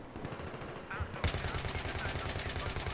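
Battlefield 3 multiplayer gunfire: rapid, sustained automatic shots crackle in a steady stream that grows denser and louder partway through, with game noise mixed in.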